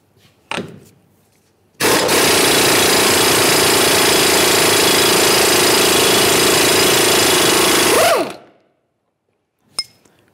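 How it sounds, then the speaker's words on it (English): Removal of a 32mm axle nut on a 2010-2013 Ford Transit Connect: a loud, steady mechanical rattle of a power tool runs continuously for about six seconds, then cuts off, with a few short clanks before and after. "Let's continue on by removing our 32mm axle nut."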